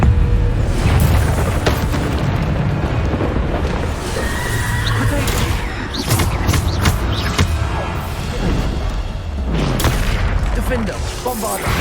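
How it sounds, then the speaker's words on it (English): Bombarda spell explosions booming during combat in Hogwarts Legacy, loud and dense amid a constant wash of battle noise, with several heavy bursts spread through the clip and a voice talking over the action. "Defender, Bombarder. Depulso."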